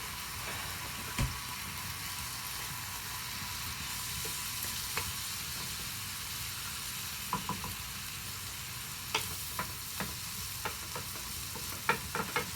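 A frittata frying in a buttered pan, a constant soft sizzle with scattered utensil clicks and taps against the pan, close and alone, with no talking.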